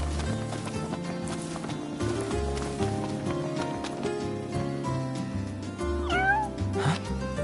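A cat meows several times in a video game at night, its short rising cries coming late over a steady bed of ambient game music with low rhythmic tones.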